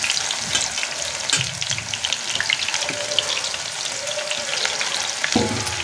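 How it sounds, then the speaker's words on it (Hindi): A large onion frying in oil for chicken biryani, giving a loud continuous bubbling sizzle with occasional stirring scrapes, close and unbroken throughout. "यहाँ मैं इसमें डाल देती हूँ 1 बड़ी प्याज और इसको हम फ्राई करके निकाल लेंगे"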